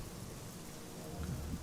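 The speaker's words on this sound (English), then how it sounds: "still the wind and the thunder and the rain is loud in my ears" Wind, thunder and rain sound effects in the survival game Generation Zero, a steady low rumble under constant rainfall hiss, moderately quiet with no distinct thunderclap, no voices.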